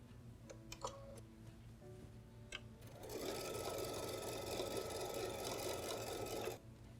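A sewing machine stitches the back and bottom panels of a fabric tote bag together. After a few quiet clicks and handling noises, a steady, fast mechanical whirr runs for about three and a half seconds and then stops, with no talking.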